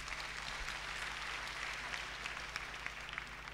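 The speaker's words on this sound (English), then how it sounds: "Can we clap for those two groups?" Church audience applause for two groups of participants, a faint, steady wash of clapping heard from a distance over a low hum.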